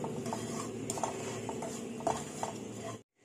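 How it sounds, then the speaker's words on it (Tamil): Curry leaf powder stirred into roasted peanuts in a pan for curry leaf rice: soft scraping and light clinking of a spoon over a low steady hiss, cutting off abruptly near the end. "சேர்த்துட்டு நல்லா கலந்து விட்டுக்கலாம்"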